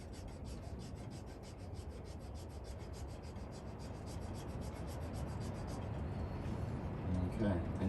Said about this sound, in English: this is a really fine-tooth file. All right, and I'm just going to start angling this at an angle.